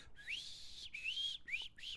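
Soft human whistling in a few rising, sliding notes with short breaks between them, fairly quiet and heard alone.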